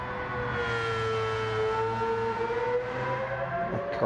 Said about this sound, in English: That car's going so fast.